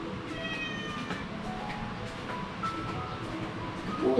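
A cat meows repeatedly, high, drawn-out plaintive cries over steady background noise in a home.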